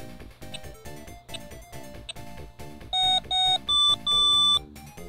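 An Electronic Mouse Maze handheld game, fitted with a replacement speaker taken from a dollar-store toy gun, plays a quick electronic tune of steady rhythmic bleeps. It ends with four louder, piercing beep tones in a row.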